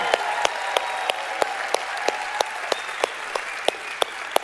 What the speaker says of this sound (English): A round of applause for Jim Caldwell, please.